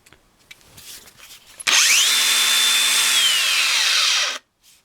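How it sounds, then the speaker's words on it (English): A DeWalt DCG405 18V cordless angle grinder whines up sharply, runs at a steady high pitch for a few seconds, then its electronic brake drops the pitch and stops it almost instantly, followed by near silence. "It really does stop quickly, and that is handy because you can put the grinder down and not have to worry about it catching something"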